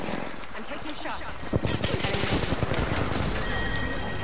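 Rapid bursts of video game gunfire crackle over a dense, loud battle soundscape, with a player talking over the shots.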